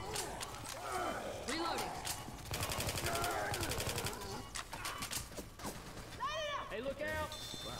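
Rapid automatic gunfire from a zombie shooter video game rattles in dense bursts, mixed with shorter single shots and game effects, while players talk over the action.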